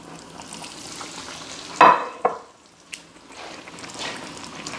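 Quiet steady sizzling of breaded meat rolls frying in oil, with a few sharp clicks and spatters standing out.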